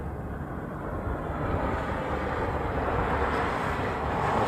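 Southwest airliner taking off from the Reef Runway, heard as a steady, broad roar of jet engines that holds constant and swells slightly toward the end, with no talk.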